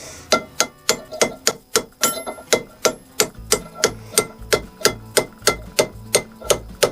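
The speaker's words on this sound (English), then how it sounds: "So now we're going to get this tapped in there." Repeated sharp hammer taps drive a part into a VW 1200 40hp engine during a rebuild, about twenty close, evenly spaced metallic strikes in a steady rhythm with no talking.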